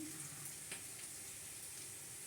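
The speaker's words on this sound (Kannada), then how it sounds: "ಇವಾಗ ಮೆಂತ್ಯ ಹಾಕ್ಕೊತಾ ಇದ್ದೀನಿ" Fenugreek leaves frying in a hot pan, a faint steady sizzle with a few soft taps, no talking.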